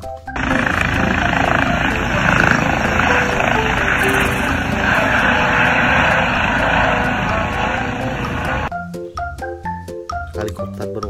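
A blue toy helicopter gives off a loud, continuous electronic rotor whir for several seconds, then stops and gives way to short chiming toy sounds.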